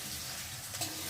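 Onion and garlic fry together in a pan, giving a steady, close crackling sizzle throughout with a slight swell near the end and no voices.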